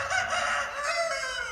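Roosters crow in a village in the morning, one drawn-out crow at a moderate distance over a faint rural background.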